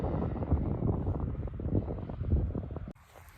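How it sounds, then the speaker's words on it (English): Evening wind outdoors in a vegetable garden buffets the microphone with a low, rumbling roar that gusts unevenly, then drops off sharply near the end. "And now the wind is starting to die."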